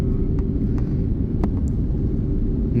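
An airliner in flight high over Italy: a steady, loud, low cabin drone with rushing air that holds constant throughout, with a few faint clicks and no talking.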